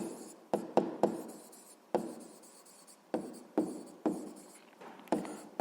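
Someone writes out a sixth-grade math solution by hand, producing a steady series of close, scratchy strokes with sharp starts and short pauses between words, clear and alone with no voice.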